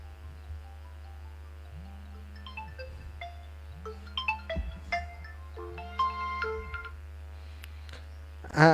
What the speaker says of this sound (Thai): อาจารย์โทรไลน์เข้ามาหาผมกันแล้วครับ